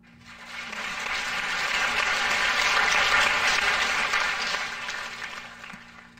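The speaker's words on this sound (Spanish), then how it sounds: "desde aquí les brindamos un fuerte aplauso" Applause from a church congregation at a presbyterate ordination service swells, peaks mid-way and fades out, a steady wash of clapping with no talk over it.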